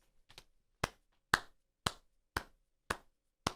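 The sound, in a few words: slow clap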